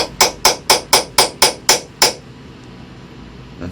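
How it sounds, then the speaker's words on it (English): A hammer drives a wooden strip into a handmade wooden desk. Eight sharp, evenly spaced knocks ring out close up, followed by quiet room tone. "I'm gonna keep hammering in."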